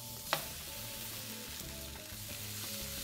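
Steaks rubbed with olive oil, kosher salt and pepper sizzle steadily in a hot skillet, a close, continuous crackle with one sharp pop near the start.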